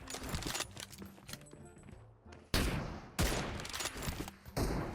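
Rapid bursts of gunfire in the mobile battle royale game PUBG Mobile, with sharp loud volleys cutting in between quieter stretches of game sound.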